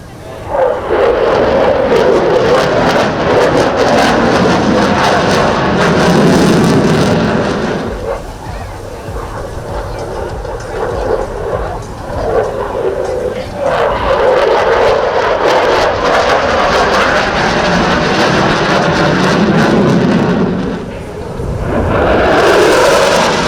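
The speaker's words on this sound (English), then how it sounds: "The display is performed with an F-16C Block 40" An F-16C Block 40 fighter jet flying an airshow display, its loud, roaring engine surging and fading in long waves as it passes, briefly dropping lower mid-pass before building again.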